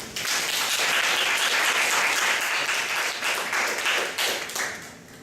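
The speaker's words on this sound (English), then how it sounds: "Let's welcome our speaker with a big round of applause" A lecture audience gives a warm round of applause to welcome a speaker at a talk on American suburbs, dense clapping swelling quickly, holding strong, then tapering off near the end.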